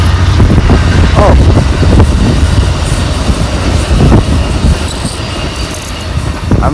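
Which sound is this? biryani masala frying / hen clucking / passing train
passing train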